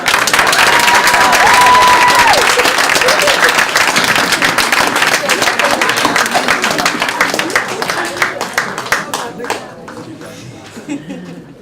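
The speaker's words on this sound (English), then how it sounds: "Let's get another round of applause for Miss T." Audience applause for a performer named Miss T at a live event called The Flame, loud sustained clapping and a few cheers from a crowd that gradually fades out near the end, with some voices underneath.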